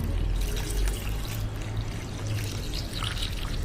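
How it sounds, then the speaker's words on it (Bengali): Water poured a little at a time into a mixture of sour yogurt and a bowl of gram flour, a steady close-up splashing trickle with no talking. "এবার অ্যাড করব জল।"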